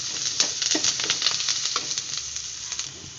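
Sliced onions fry in a pan for a fish curry, giving a steady bright sizzle with scattered crackles and soft stirring scrapes, close by and with no talking.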